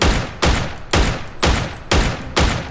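Six evenly spaced gunshots ring out in a video game about half a second apart, each a loud sharp blast with a decaying tail, with no talk between the shots.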